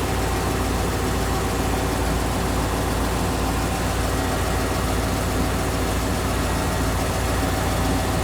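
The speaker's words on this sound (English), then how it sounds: "Our engine's just going through a warm-up phase here." An engine idles steadily through its warm-up, with a loud, dense, unchanging rumble and vibration throughout and no speech.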